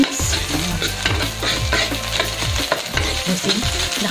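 Sisig-style sardines stirred in a frying pan, a steady sizzle under repeated scraping and clinking strokes of the spoon, close and continuous.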